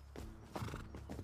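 Horse in a video game: a short burst of hoof clip-clops with a whinny, moderately faint, with no talk.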